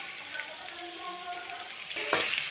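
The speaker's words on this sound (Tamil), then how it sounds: "போட்டுட்டு வதக்குறேன்." Chopped onions, dried and green chillies and curry leaves sautéing in a hot pan, a soft steady sizzle with light stirring scrapes and a louder burst of frying near the end.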